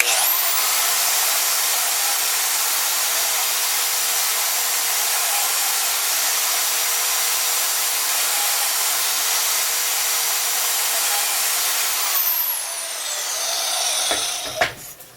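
A Milwaukee 6238-20 deep cut portable two-speed band saw cuts through Schedule 60 conduit. Its loud, steady high-pitched whine runs for about twelve seconds, then fades out with a few clanks as the cut finishes.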